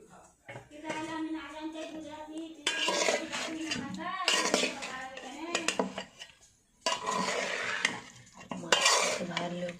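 Fish is tossed and stirred in a pan, giving bursts of metal scraping and clattering with a faint sizzle between them. Quiet speech occurs at the start.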